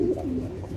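A pair of giraffe-neck beauty pigeons give a soft, throaty coo, one short rolling call heard close and alone.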